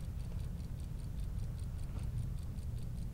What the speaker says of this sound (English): Are you ticking?